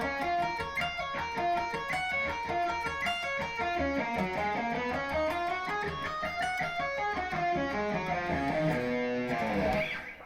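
Electric guitar playing a fast B Lydian lick of sweep-picked arpeggios and string-skipping runs, rapid cascading notes rising and falling in a continuous stream, clear and close with a distorted tone, alone without talk.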